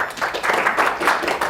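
Audience applause, a steady wash of many hands clapping through the whole moment, moderately loud and fairly close, with no talk over it.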